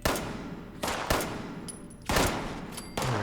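Gunfire in the video game Fallout 76, several bursts of rapid shots spaced across a few seconds, loud and close with a short decay after each burst.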